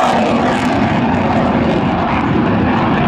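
An Italian Air Force Eurofighter Typhoon jet at full power, a loud, continuous, broadband roar that stays steady throughout and drowns out everything else.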